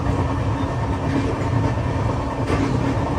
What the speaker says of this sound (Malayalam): ട്രെയിൻ ഇപ്പം 100 km/h പോകുന്നത്.